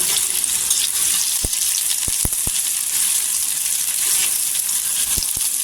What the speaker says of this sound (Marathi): कांदा छान असं तेलावर परतायचा